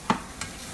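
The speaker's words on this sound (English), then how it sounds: "I'm gonna stir them." Chickpeas stirred in a frying pan: two short scraping strokes of a utensil, the first louder, over a faint background sizzle, with no voices.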